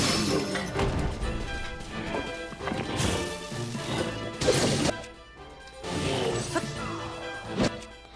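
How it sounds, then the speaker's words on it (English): Heavy smashing blows land on a lynel's back from a silver bokoblin axe in a Zelda game, a series of loud crashing impacts with clattering hoof-like sounds and game effects, layered over continuous background game audio. "grab your silver bokoblin axe and you just start smashing his back"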